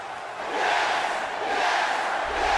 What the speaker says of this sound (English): this crowd is going absolutely crazy